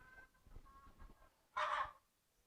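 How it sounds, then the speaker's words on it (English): A short burst of loud, squawking chicken clucks rises suddenly after quieter background murmuring, then fades away. "those are the chickens that keep me up all night"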